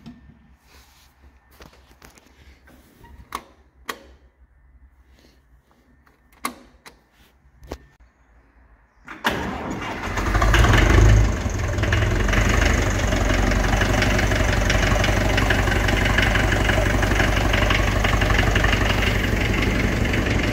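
An IHC D432 diesel tractor is quiet at first apart from a few sharp knocks, then fires into a loud, steady idle. The engine stays near and close-miked with a low rumble, and there is no talking.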